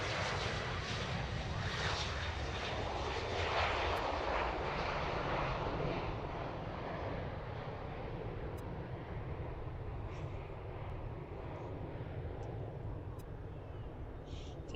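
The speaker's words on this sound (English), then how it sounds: "Alright, that's Delta taking off for Atlanta, the one we just saw taxi by us." Delta airliner jet taking off at a busy cargo airport: a broad, loud continuous engine roar with rushing noise, holding steady and easing slightly as the plane departs, heard from a distance outdoors.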